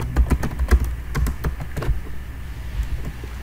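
Keys clatter on a computer keyboard while code for a React component is typed, giving a quick, uneven run of close clicks in a quiet room that thins out toward the end.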